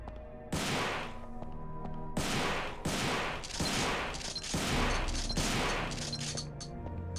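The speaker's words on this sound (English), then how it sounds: "Magical shotguns." Heavy shotgun blasts from the video game Devil May Cry boom in a steady series of about six loud, ringing shots with short gaps between them.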